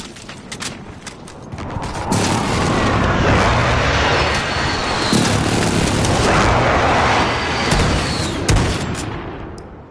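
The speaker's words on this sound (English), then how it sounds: "Friendly precision airstrike on the way." Precision airstrike explosions in a video game roll on as heavy, continuous booming and rumbling for most of the stretch, loud and dense, with crackling gunfire-like bursts mixed in.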